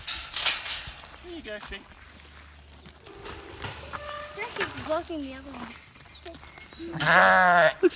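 Sheep bleating on a farm during shearing, several wavering bleats, one loud and close near the end, with people talking over and between them.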